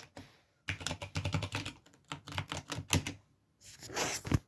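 Typing a password on a computer keyboard: quick bursts of crisp key clicks in uneven runs, close and fairly quiet, with brief gaps between groups of keystrokes.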